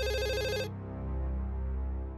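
A mobile phone rings with a bright, repeating electronic melody for under a second, then cuts off abruptly, leaving a low droning background with no speech.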